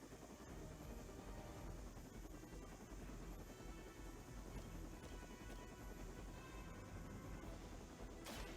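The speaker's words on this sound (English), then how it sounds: "Stop that helicopter." A helicopter in the video game Midnight Suns gives off a steady, quiet whirring rotor drone that holds unchanged throughout, with no speech over it.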